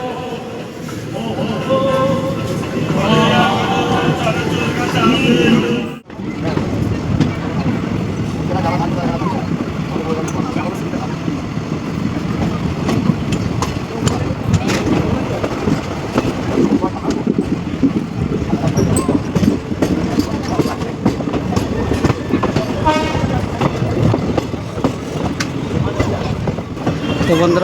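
A train leaves Bahadurpur railway station, rolling along with steady rumbling and rhythmic clatter of wheels on rails, loud and close throughout, with a brief voice speaking early on.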